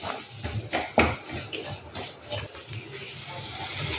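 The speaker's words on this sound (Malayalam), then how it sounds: "നന്നായിട്ട് ഇളക്കി കൊടുക്കാം." A spoon stirs rock-salt water in a pot in a school kids' kitchen, giving irregular clinks and scrapes over a steady hiss, with one sharper knock near the middle.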